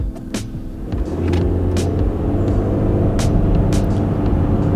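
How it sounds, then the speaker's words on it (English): A 2018 Subaru Crosstrek pulls away from a dead stop. A loud, steady engine rumble builds after a brief lull and holds strong throughout, with no speech. "Acceleration from a dead stop."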